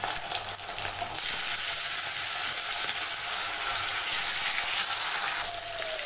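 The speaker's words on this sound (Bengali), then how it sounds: "মাছটা ভাজা হচ্ছে" Hilsa fish frying in hot oil for ilish polao, a steady close crackling sizzle that runs without a break and has no talking over it.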